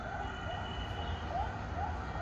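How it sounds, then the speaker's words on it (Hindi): A siren wails outdoors, faint and distant, its tone rising and falling in repeated sweeps over steady background noise, with no voices. "कितने अलार्मिंग होते हैं ना ये सायरन इस दौर में, और स्केरी भी"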